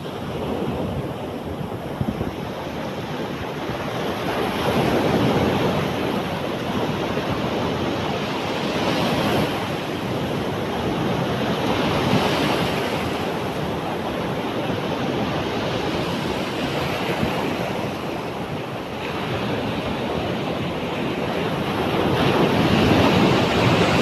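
Ocean waves breaking on a beach, a loud continuous wash of surf that swells and recedes, with wind buffeting the microphone and no talking.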